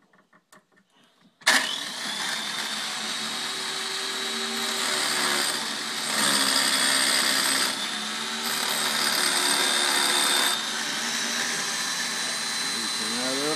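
A new chain grinder spins up after a few light clicks, then runs with a steady high whine that shifts in pitch and loudness as the blade meets the saw chain, loud and close.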